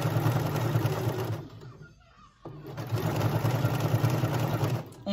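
A sewing machine stitches a legging waistband in a steady, close mechanical whir that stops briefly for about a second and then runs again, loud and without talk.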